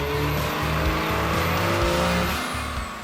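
Ram 3500 dually pickup with a Cummins turbo diesel engine roaring steadily on a chassis dyno at its highest tune, a loud sustained drone with shifting harmonic layers and no talk.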